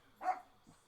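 A single dog bark, faint and distant, a short sharp yelp followed by a softer low trailing sound, in an otherwise quiet outdoor setting.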